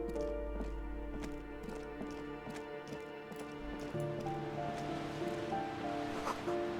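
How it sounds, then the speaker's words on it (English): Waves crash in the darkness within the Disco Elysium video game, a soft continuous wash of surf under a sustained musical drone, moderately quiet with faint recurring splashes. "Waves crashing in the darkness."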